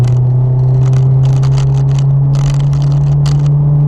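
Honda S2000 roadster driven in the rain: a loud, steady engine drone holds throughout, with bursts of hissing spray and rustle layered over it, and no talking.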